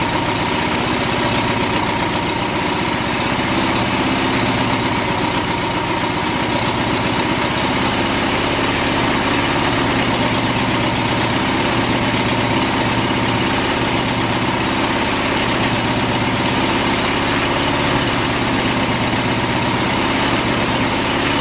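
A car engine idles steadily and loudly up close, a constant rumbling hum with no talking.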